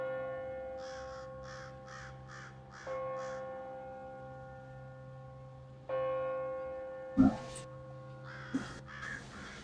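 Bell chimes ring out in three sustained tones spaced about three seconds apart, each fading slowly, while crows caw repeatedly over and after them.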